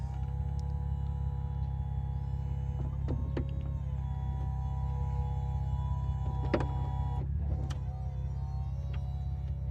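A 2011 BMW Z4 E89 hardtop convertible roof opens on its hydraulic system, a steady pump hum with faint mechanical clicks and clunks as the roof moves.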